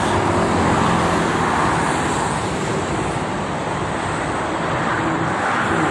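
Heavy Jakarta–Cikampek toll road traffic, cars and buses included, produces a continuous broad rushing roar of tires and engines, steady and fairly loud, with vehicles blending into one another as they pass.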